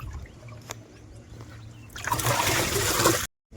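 Water gushes from a pipe on a house construction site during wall plastering, a near, steady rushing flow that starts suddenly after a quiet stretch and cuts off about a second later.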